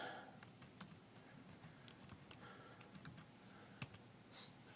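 Quick, light clicks of fingers typing on a computer keyboard with the left hand beside a Raspberry Pi, faint and close, keystrokes coming in uneven bursts over a soft background hum.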